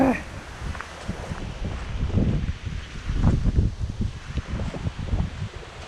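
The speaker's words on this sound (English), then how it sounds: "the wind is just not my friend today" Strong gusting wind in a wind storm buffets the microphone outdoors with a constant low roar and rustling leaves. Faint handling noises sit underneath, and it is loud throughout the whole stretch.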